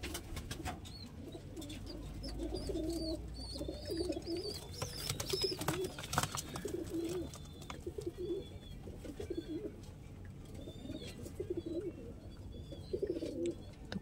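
Large old-line pigeons, Lalsira and Teddy breeds, give soft repeated coos in a quiet loft, bursts rising and falling at a steady pace with light rustling between them.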